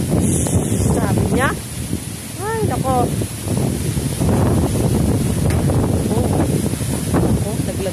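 Strong typhoon wind from Typhoon Ulysses in Tarlac City buffets the microphone in constant roaring gusts, loud and close, while people talk over it.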